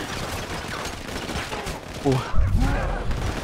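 Gunfire in a modded GTA 5 match, a dense, continuous fusillade of shots running under excited talk, with heavier booming bursts near the end.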